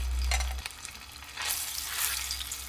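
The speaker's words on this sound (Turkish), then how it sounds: "Hemen yağın içinde domates salçamı açıyorum." Tomato paste sizzles and fries in olive oil in a pan, a steady close hiss that swells and fades in waves as it is stirred, with no talking.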